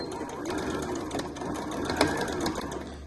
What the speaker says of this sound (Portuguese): vamos lá pra máquina e fazer a costura de toda a volta